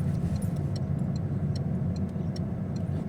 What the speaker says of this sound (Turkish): Sağ sinyalini vererek ilerliyorsun.